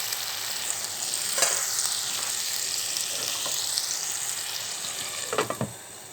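Sliced bitter gourd frying in a pan, a continuous oily sizzle broken by a few scraping stirs of a spatula against the pan.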